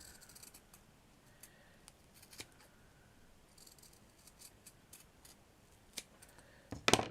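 Scissors snip around a paper petal shape in quiet, faint intermittent cuts. A louder rustle and snip come at the end.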